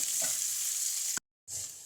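Finely sliced onion fries with garlic in a pan, a steady bright sizzle close by, briefly cut to silence before the frying resumes.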